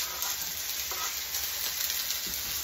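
Brussels sprouts and two stalks of celery frying in olive oil in a pan, a steady close sizzle with occasional stirring scrapes and no talking.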